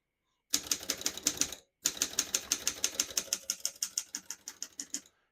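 A 1933 Corona 4 portable typewriter clacks out a rapid, even run of crisp keystrokes, with a short pause after the first few strikes before the typing resumes and tapers slightly.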